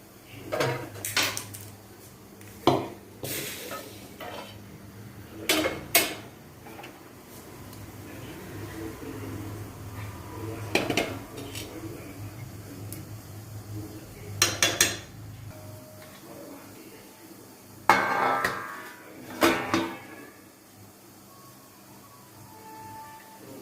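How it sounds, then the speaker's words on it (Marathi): A metal kadhai clanks and scrapes several times against a tawa griddle, scattered knocks separated by quieter stretches of kitchen background. "तवा ठेवल्यावर त्याच्यावर मग आपल्याला ही कढई ठेवायची"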